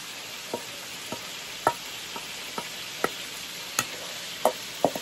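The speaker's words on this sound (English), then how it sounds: "I'm going to take and put my corn in there." Corn off the cob fries and sizzles in a pan with okra, a steady crackling hiss broken by scattered sharp ticks and pops from stirring, alone and fairly close.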